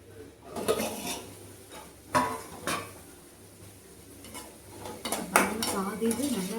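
Metal spoon scraping and clinking in a pan as sliced onions are stirred into half-cooked bitter gourd stir-fry, a few uneven clatters and scrapes with quiet gaps between them.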